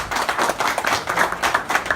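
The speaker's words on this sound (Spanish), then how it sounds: "Oye, un aplauso." Audience applause at a political gathering on a constitutional process, a steady patter of many hands clapping for about two seconds with no talk over it.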